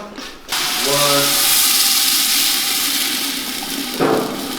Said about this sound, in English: So we're adding the water.